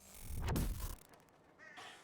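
Crow-like cawing from a bird in the video game Quantum Break, a single loud harsh call bursting out near the start over game ambience, then fading to quieter background sound.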